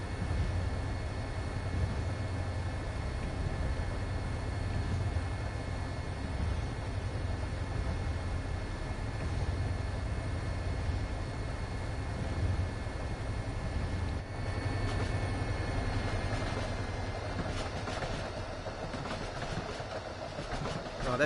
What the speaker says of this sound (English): Oh, that sound of the train is absolutely stunning.